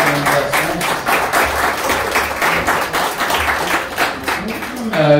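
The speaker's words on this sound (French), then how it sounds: "Je pense qu'on peut les applaudir pour la belle organisation." An audience at a conference held by the Société Saint-Jean-Baptiste de la Mauricie applauds warmly, steady dense clapping close by and sustained throughout, with a few voices mixed in.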